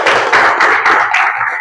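A classroom of students claps briefly for a classmate's correct answer, a short burst of hand taps and light thuds filling the room for under two seconds.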